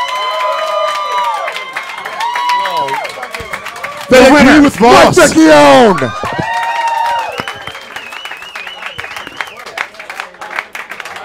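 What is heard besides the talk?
audience clapping and cheering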